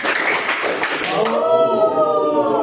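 A room of participants in a morning clapping exercise claps together in a short, dense burst, quickly overtaken by talking and voices.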